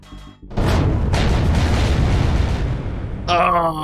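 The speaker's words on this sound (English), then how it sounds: "you know that was a big explosion" A big in-game explosion in Empyrion Galactic Survival erupts as a loud, sustained roaring blast lasting several seconds, followed by a sharp burst of tonal game effects.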